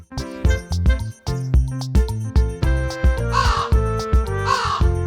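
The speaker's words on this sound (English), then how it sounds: "Crow" Crow caws repeat in a steady rhythm over bright, layered musical backing, the calls loud and upfront throughout.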